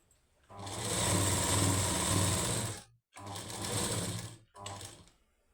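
A sewing machine stitches a saree fall with a half-inch inward fold, running in two loud, close, steady bursts separated by a brief stop, then a short final run.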